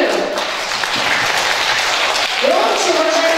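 A concert-hall audience at a children's philharmonic show claps in a dense, steady burst that holds at a loud level throughout, with a brief voice-like tone rising near the end.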